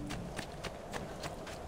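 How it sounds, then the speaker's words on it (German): Horses in the video game Assassin's Creed 2 give a steady run of rhythmic hoof clops, about six evenly spaced beats, faint and slightly distant over a low background murmur. "Ach, da sind Pferde."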